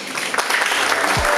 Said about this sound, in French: Un tonnerre d'applaudissements pour Zeynoudine Madi